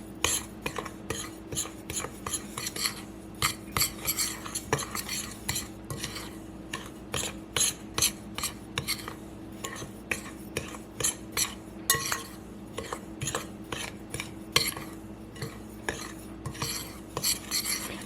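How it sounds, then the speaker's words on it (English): A spoon scrapes and clinks steadily against a bowl while mixing cornbread batter with baking powder, a busy rhythm of close, fairly quiet strokes continuing without talk. "we're just going to mix that in and kind of flip it so that that incorporates"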